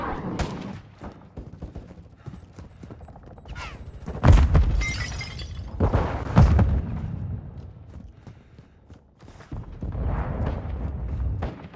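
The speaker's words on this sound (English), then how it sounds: "Friendly cruise missile approaching target." A cruise missile strike explodes during a Call of Duty: Modern Warfare II multiplayer match, with two heavy booms landing a couple of seconds apart amid scattered gunfire and battlefield clatter.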